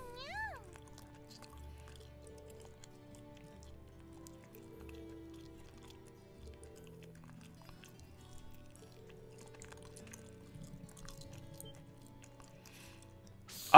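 A cat in the video game The Legend of Heroes: Trails of Cold Steel gives a quick rising meow at the start, followed by faint game sounds and a low background hum, with no voice audible.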